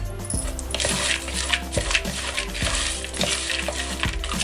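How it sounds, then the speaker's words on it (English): Chiwda ingredients with turmeric are stirred in a frying pan, a spoon scraping and knocking the pan in a steady rhythm about once every second over a soft sizzle, close and without talking. "Stir it well"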